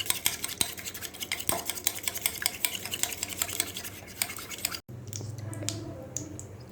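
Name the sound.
beating eggs with a fork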